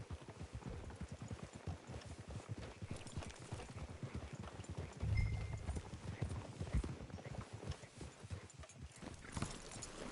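Horse hooves clip-clop at a steady walking rhythm in the Red Dead Redemption 2 video game, the hoofbeats fairly close and moderately loud, joined by a short deeper rumble midway.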